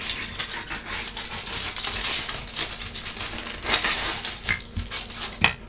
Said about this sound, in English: I cut the foil while it's flat before I crinkle it, because then the blade doesn't seem to catch on the foil so much and rip it